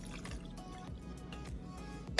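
Blue moonshine pours into a mason jar with a steady, close liquid trickle and bubbling splash lasting a couple of seconds, ending in a brief clink.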